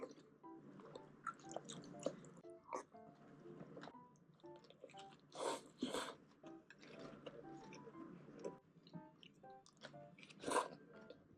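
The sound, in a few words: chewing bibimbap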